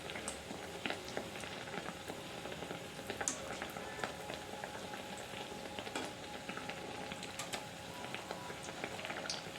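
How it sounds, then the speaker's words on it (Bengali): Egg pieces frying one at a time in hot oil in a small kadai, with a continuous gentle sizzle and frequent small crackles and pops at an even, moderate level, with no talking. "তো কড়াইটা ছোটো, এই জন্য আমি একটা একটা করে ভাজছি।"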